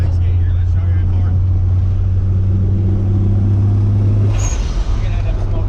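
A turbocharged Supra-powered truck drives with an open wastegate, its engine giving a steady loud low rumble with a brief hiss near the end, up close.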